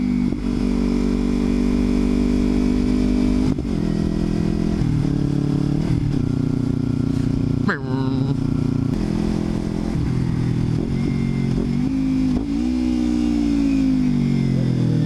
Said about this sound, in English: This Ninja 300 gets a little vibraty up in the whoa.